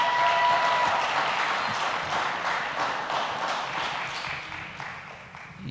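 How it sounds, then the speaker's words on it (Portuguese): An audience applauds to celebrate a girl's birthday during a class, a dense, continuous wash of many hands clapping that holds steady and slowly fades over several seconds. "uma salva de palmas"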